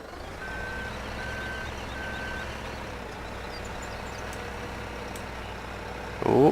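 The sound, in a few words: telehandler engine and reversing beeps in Farming Simulator 17 video game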